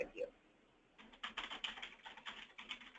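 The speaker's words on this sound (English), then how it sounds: "You're typing." Rapid clicking of computer keys comes in an uneven run after a brief quiet gap, fairly close and moderately loud, with a short bit of voice or bird-like chirp at the very start.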